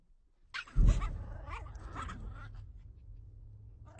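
A dog growls in a film scene: a sharp burst of grumbling vocal noise, then a low, continuous rumble that stays close and fairly quiet, with no talk over it.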